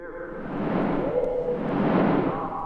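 Spooky recorded audio played in reverse for a haunt promo, a dense, swelling wash of smeared tones that rises and falls continuously at moderate loudness with no clear words.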